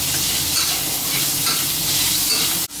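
Pork stir-frying in its own rendered fat gives a loud, steady, close hiss and crackle that cuts out abruptly at the very end.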